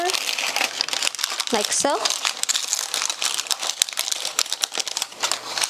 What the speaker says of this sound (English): I'm just gonna slowly take this parchment paper, bring it over